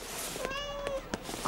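A cartoon cat gives a single clear, drawn-out meow with a bright, wavering tone, heard up close over light background sound in an animated scene.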